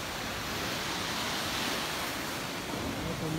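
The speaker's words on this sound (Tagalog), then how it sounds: "Ayun yung agos ng alon oh. Humahampas talaga." Strong ocean waves surge and crash at Barangay Linao, a continuous loud wash of surf mixed with wind buffeting the microphone.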